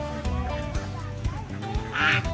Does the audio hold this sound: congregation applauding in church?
no